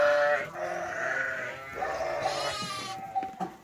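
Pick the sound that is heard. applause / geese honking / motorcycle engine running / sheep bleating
sheep bleating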